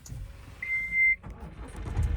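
A 2021 MG Hector Sharp diesel SUV with manual gears cranks with a short steady whine, then settles into a low idle rumble close by, with no voices.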